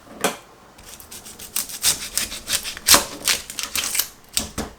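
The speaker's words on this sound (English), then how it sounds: "After your jalapeno, you just want to dice up your onion." A knife dices a small yellow onion on a cutting board, giving close, crisp chopping taps in quick irregular bursts for several seconds with no talking.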